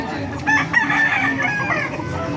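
Roosters crow loudly and close by at a market in Calumpit, drawn-out calls overlapping with steady clucking from a group of chickens.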